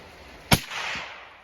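A single sharp, loud crack from a Bear Creek Arsenal 7.62x39 rifle at an outdoor range, followed by a short rolling echo that fades quickly.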